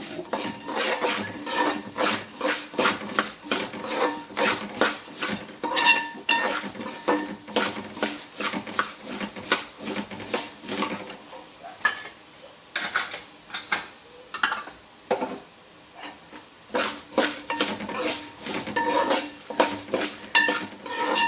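Repeated scraping and clattering of a utensil against a metal pan as coriander seeds roast over a low flame, irregular stirring strokes over a quiet background, with no voices.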